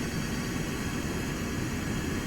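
Steady, loud roar of a SEPECAT Jaguar's jet engine in Microsoft Flight Simulator, a constant broadband whoosh with a low rumble as the throttle is pushed up, with no voices.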